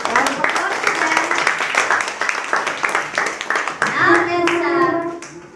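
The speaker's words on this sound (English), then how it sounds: "Round of applause for them." A class claps for student presenters, sharp hand claps mixing into a round of applause with children's voices talking and calling out over it, the chatter growing livelier toward the end.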